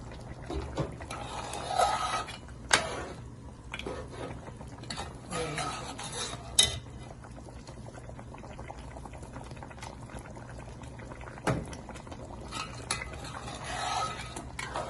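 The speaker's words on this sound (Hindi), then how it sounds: "चमचे को ज़रा प्यार से हम घुमा के चलाएंगे क्योंकि हम चाहते हैं कि पाए जो है वो टूटे ना" A spoon stirs mutton paya gently in a pot as the broth simmers and bubbles, with a few soft scrapes and clinks against the metal rising over the steady low boil.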